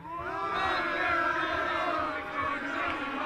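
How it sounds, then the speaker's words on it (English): On the final day of the 2023 Ryder Cup golf event, a large crowd cheers and sings in sustained tuneful chanting. The sound holds steady and fairly loud throughout, carrying a massed, open-air feel. "Hear the cheering."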